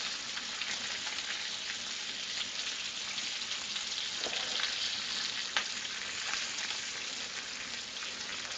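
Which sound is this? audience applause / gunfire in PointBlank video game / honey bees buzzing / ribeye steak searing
ribeye steak searing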